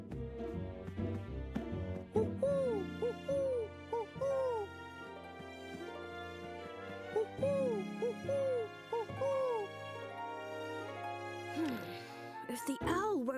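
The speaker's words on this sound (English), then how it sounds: "Oh, the owl's still not coming any closer." An owl in an animated cartoon hoots repeatedly in short, wavering calls over light background music, moderately close and clear.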